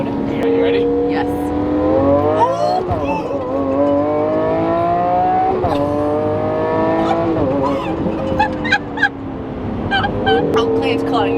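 A flame-throwing Lamborghini Aventador in Corsa mode pulls hard on a freeway, its loud engine climbing in pitch through repeated rapid gear shifts, heard from inside the cabin with voices over it.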